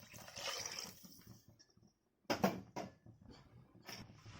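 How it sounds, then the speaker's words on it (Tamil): Water poured into a pot for chicken soup in a home kitchen, in two splashing bursts separated by a brief silent pause, close and fairly quiet. "தண்ணி சேர்த்துருங்க."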